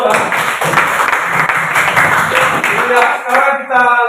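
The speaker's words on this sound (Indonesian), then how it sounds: "tepuk tangan untuk kelompok 2" Classroom audience clapping for a student group after a biology presentation at a university, loud and dense at first, then thinning out toward the end as a voice begins speaking.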